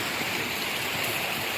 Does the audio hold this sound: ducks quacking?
no